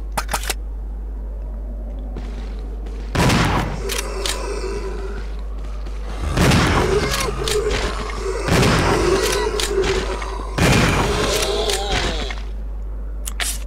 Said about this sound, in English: Four shots of the shotgun was probably three too much